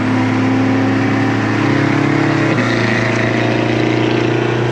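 A straight-piped Kia Stinger exhaust roars loud and close, a steady heavy drone with a brief shift in pitch midway as the engine changes load.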